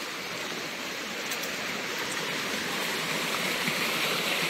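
Water flows steadily at a dam swimming spot, an even rushing wash that holds at moderate loudness throughout without any voices.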